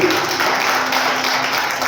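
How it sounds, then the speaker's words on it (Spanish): A church congregation applauds during a sermon, giving a steady wash of clapping at moderate loudness that carries on evenly without pauses. "Denle un aplauso al Señor."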